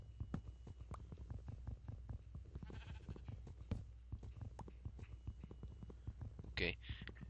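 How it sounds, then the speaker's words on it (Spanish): Sheep in the video game Minecraft bleating a few times amid soft crunchy footsteps and block sounds, with a quiet voice murmuring over the game audio. "escucho ovejas"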